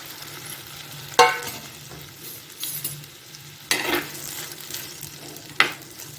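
Cut okra fries in oil in a pan with a steady low sizzle, punctuated by three loud stirring scrapes of a spoon against the pan, close and alone without voices.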